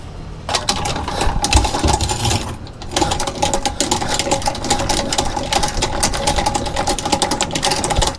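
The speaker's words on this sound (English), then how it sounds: "We're going to loosen these guys up, take this old jack off, and we'll put this new one on." A 14 mm ratchet wrench loosens the mounting bolts of an old trailer tongue jack, producing a fast, continuous metallic clicking that runs close and steady for several seconds.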